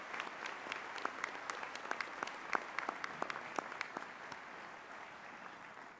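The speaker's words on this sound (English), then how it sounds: "Let's give them a round of applause." Audience applause at a 2023 Joliet Junior College commencement ceremony, a steady wash of many hands clapping with sharper individual claps on top, fairly distant and tapering off toward the end.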